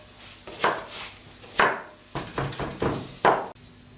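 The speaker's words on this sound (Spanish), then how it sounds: "Lo picamos lo más chiquito que podamos." Knife chopping the white part of a green onion finely on a cutting board: a run of crisp, close blade strikes in uneven bursts, some sharper and louder than others, with no talking.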